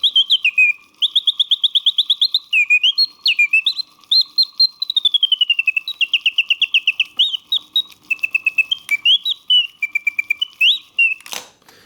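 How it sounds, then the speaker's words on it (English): Antique Flajoulot going-barrel singing bird box, repaired, sings loudly and close up: rapid trilling chirps and warbling whistled phrases repeat in quick bursts with brief pauses between them, ending in a sharp click. "I just finished repairing an antique singing bird box for a client of mine."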